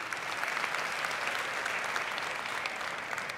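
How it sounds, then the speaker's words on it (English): A church congregation breaks into steady, dense applause that fills the room at a constant level, with no voices rising above it. "That's God clapping, just so you know."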